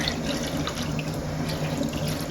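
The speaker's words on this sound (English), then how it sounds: "And then I'm going to just pour on a bit more water." Water from a tap pours steadily onto twisted yarn sitting in a dye bath, a continuous close splashing rush that carries on unbroken with no talking.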